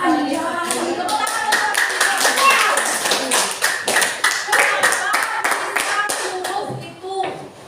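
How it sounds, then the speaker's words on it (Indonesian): An audience claps together at a brisk, even pace, loud and close, with some voices mixed in before the applause thins out toward the end. "Tepuk tangan."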